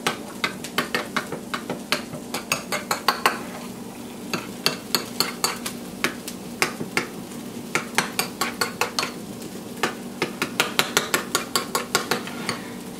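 Seasoning being stirred into taco burger meat with salt and pepper, a utensil scraping and clinking against a bowl in quick, repeated strokes, fairly close and steady, with no talking.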